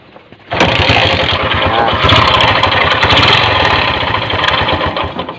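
A motorcycle engine with a faulty connecting rod bursts into life and runs loud and rough up close, a steady harsh roar with fast rattling knocks throughout.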